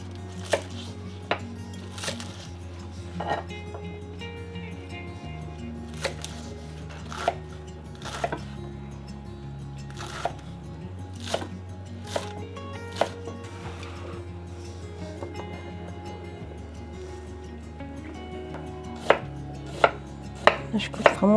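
Thai basil being chopped very finely with a knife on a board, a long run of quick, crisp blade taps in bursts, close and clear, with no talking.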